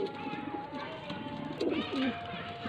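A pigeon kept for sale coos close by in low, rolling bursts, with several clear throaty calls over a busy background and faint talk.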